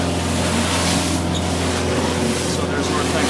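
Steady engine drone and broadband wash of water rushing past a boat motoring through choppy water in Howe Sound, continuous and fairly loud throughout.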